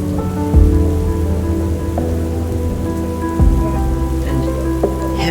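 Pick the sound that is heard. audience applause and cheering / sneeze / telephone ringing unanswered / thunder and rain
thunder and rain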